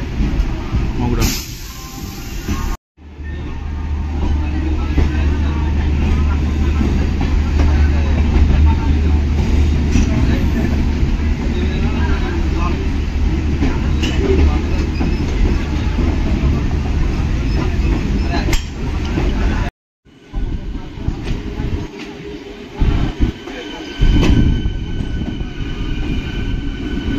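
A passenger train runs steadily out of Howrah toward Magra on the 8:05 service, a loud continuous low rumble and wheel rattle heard from inside the carriage, with brief cuts in the sound and a voice occasionally speaking.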